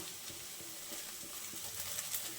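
Chopped egg pieces frying until reddish-browned, a faint, continuous soft sizzle with light stirring scrapes, close but quiet and free of speech.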